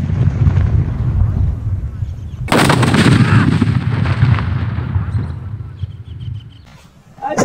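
Giant firecrackers go off in a rapid barrage of loud, sharp bangs, with a dense burst of cracking detonations erupting midway and trailing into echoing pops, then a final blast at the end.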